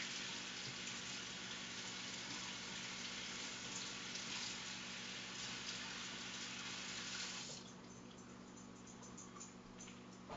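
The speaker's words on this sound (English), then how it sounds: "Take it to the sink, which is right over here. Rinse them off nice and good." Celery sticks rinsed under a running kitchen sink tap, a steady broadband rush of water that holds without talk, then thins and softens near the end as the flow changes.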